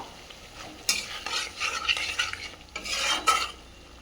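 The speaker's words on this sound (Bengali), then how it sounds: "দিয়ে ভালো করে মশলাটা কষাবো।" Spice paste with turmeric, salt and water being stirred and fried in a pan for vegetarian paneer biryani, a close, steady sizzle with scraping spoon strokes coming in bursts.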